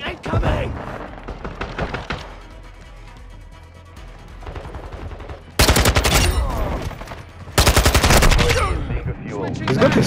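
Submachine gun fire in Call of Duty Modern Warfare 2, with rapid automatic bursts and a long, loud stretch of sustained firing partway through, mixed with game effects and voices talking.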